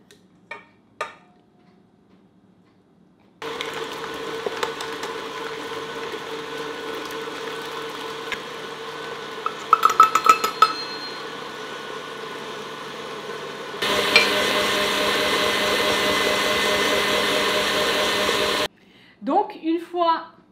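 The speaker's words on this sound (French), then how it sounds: "So all we're doing is blending everything." A mixer blends cheesecake filling with sugar and vanilla in a steady motor whir lasting many seconds, rattling briefly, then rising to a louder, faster drone before stopping, with brief talk before and after.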